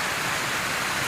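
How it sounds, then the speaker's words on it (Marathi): Heavy rain pours down outdoors as a steady, dense hiss that stays even and unbroken throughout. "आणि बाहेर खूप पाऊस येतोय."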